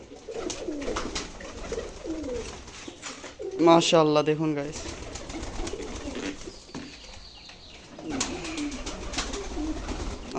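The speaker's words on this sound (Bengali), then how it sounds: "সবগুলো কবুতরকে খাবার দেবো সবগুলো কত ক্ষুধার্ত দেখুন" Pigeons coo close by while they are being fed, with a loud burst of cooing midway, some wing flutters and a person talking throughout.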